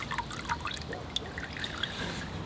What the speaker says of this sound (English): I'm going to put my coolant into the bucket.